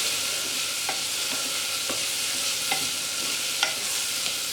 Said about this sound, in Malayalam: പച്ചക്കറികളെല്ലാം ചേർത്തതിന് ശേഷം സ്റ്റവ് ഒരു മീഡിയം ഫ്ലെയിമിൽ വെച്ച് 2-3 മിനിറ്റ് നന്നായിട്ട് വഴറ്റി